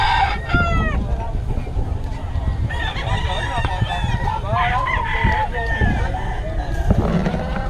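Mostly hens cluck steadily with a rooster crowing several times, close by, amid a busy farmyard with some background voices.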